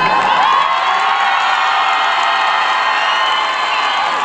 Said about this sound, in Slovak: či by ste nás nemohli privítať takým potleskom, akým sa s nami budete dnes večer lúčiť